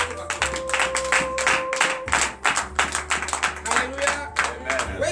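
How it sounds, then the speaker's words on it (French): A church congregation claps in acclamation during a morning prayer service, loud close rhythmic handclaps in quick bursts with voices and a sustained musical tone underneath. "Donnez le vive acclamation à l'éternel."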